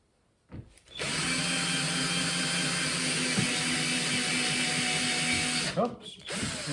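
A power drill whirs steadily for several seconds as it drives a screw during a van roof vent fan install, starting and stopping abruptly, close and loud.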